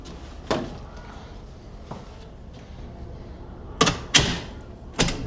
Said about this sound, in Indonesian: Pastikan kalau keluar pintu kalian terkunci.